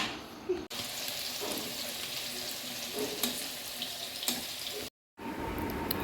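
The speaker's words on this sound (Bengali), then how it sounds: "মটনের আলু দিয়ে দিচ্ছে, এখন ভাজি করে নেবে।" Mutton and potatoes fry in oil in a pan with a loud, continuous close-up sizzle broken by a few stirring scrapes, and a short silent gap near the end.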